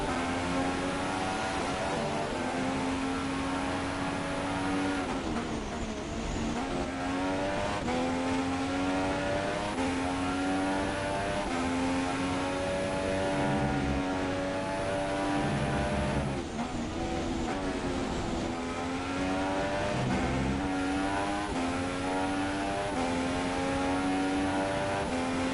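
Race cars in an All Stars Racing F1 league game at Bahrain drone continuously with sustained high engine whine and shifting pitch, loud and steady throughout with no voices.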